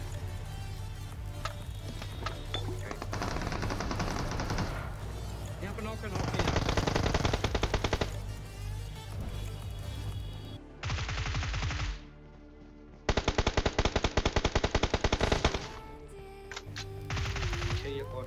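Bursts of automatic gunfire crackle through a squad fight in a battle royale video game, coming in long rapid volleys separated by quieter gaps over a steady game background hum.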